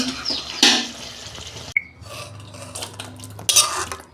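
Cauliflower and potato curry is tipped out of a pan: a metal utensil clanks and scrapes against the pan, then a soft, wet slide of the thick curry follows, with another sharp clink near the end.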